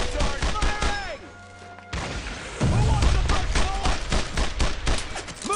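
Covering gunfire in the WWII shooter Brothers in Arms, bursts of rifle and machine-gun shots crackling in rapid succession, pausing briefly, then resuming heavier with low thumps, while voices speak over the battle.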